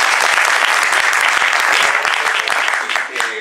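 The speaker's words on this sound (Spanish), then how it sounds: "Pues aplausos también para ellos." A television studio audience on the show Hora América gives loud, sustained applause, thick with individual claps, easing slightly near the end where a voice may briefly come through.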